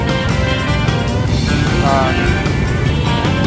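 Steady road traffic on Farina Avenue, a dense continuous rumble of engines and tyres heard from inside or beside a moving vehicle, with no clear individual pass-bys.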